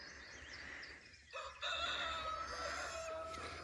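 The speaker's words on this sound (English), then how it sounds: "He's a silver-laced Wyandotte." A silver-laced Wyandotte rooster crows and clucks outdoors on a homestead, a faint, drawn-out call from some distance against quiet background noise.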